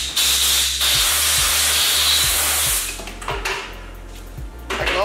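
Compressed air blasts through a SATAjet X 5500 spray gun being cleaned, a loud steady hiss lasting several seconds that cuts off, followed by a shorter second burst.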